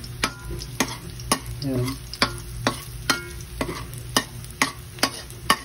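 Garlic frying in a pan for chaw fan fried rice, stirred with a utensil that clacks against the pan in a steady rhythm of sharp scrapes over a low sizzle, close by, with a brief word spoken.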